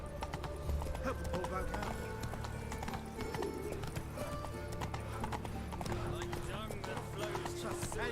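Horse galloping in the video game The Witcher 3, rapid rhythmic hoofbeats with an occasional whinny, running under a voice talking.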